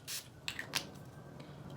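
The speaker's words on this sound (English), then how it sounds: "I'm gonna spray this with a little bit of this Rose Neroli face mist" A Rose Neroli face mist spritzed onto a makeup brush gives a short, soft hissing burst, then a second brief spritz, both quiet and close against a faint background.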